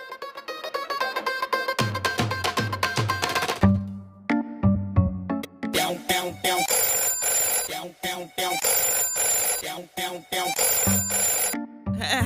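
A mobile phone ringtone plays while a call is placed, a loud melodic repeating tune with bursts of notes and short gaps, close and alone with no speech.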